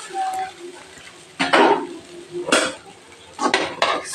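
Cooked rice being mixed in a pan for brinjal egg rice, with three bursts of scraping and clattering of a spoon against the pan between quieter gaps, close and moderately loud.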